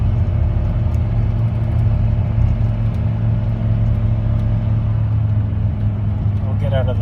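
A Dodge Ram V10 engine drones in a deep, steady, loud rumble while towing a camper up a big hill with the throttle floored, heard from inside the cab.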